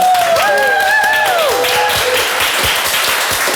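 A television talk show studio audience breaks into loud, close applause, with gliding whistles over the clapping at the start before it settles into a steady patter.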